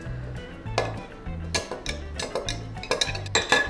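Soup mixture stirred in a pot, soft scraping and light clinks of a utensil against the pot in an uneven rhythm, quiet and close.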